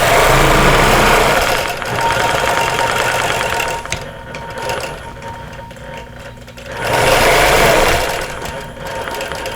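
A long-arm quilting machine stitches a pillow cover made from vintage quilt blocks with a loud, rapid mechanical chatter that runs steadily, eases into a quieter stretch midway, then speeds back up to full rhythm.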